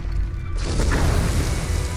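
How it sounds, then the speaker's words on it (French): A violent explosion rocks a temple in a Star Wars audio drama: a loud, dense low rumble with crashing debris that swells after half a second and sustains without pause, with no voices over it. "Soudain, une violente explosion ébranla le temple"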